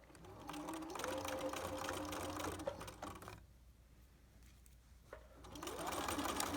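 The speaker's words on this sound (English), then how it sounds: "now stitch down the side of my pocket" A sewing machine runs in steady stitching bursts along the side of a reinforced pocket, sewn an eighth of an inch from the edge; the motor pauses briefly near the middle, then starts up again, close and clear with no talking.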